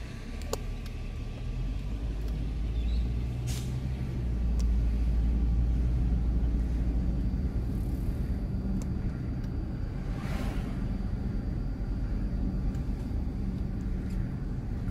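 A car drives along a city road in Red Hook, New York City, during a driving road test, its engine and tyre rumble steady and close from inside the cabin, with a few faint clicks and no talking.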